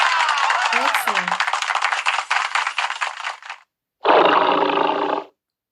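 A tiger's roar, heard as a loud, rough burst after a stretch of clapping-like rustling noise and a short pause.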